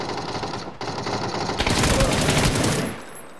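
Rapid automatic gunfire from a shooter video game: a dense, loud burst of shots lasting about a second, with steady game background noise around it.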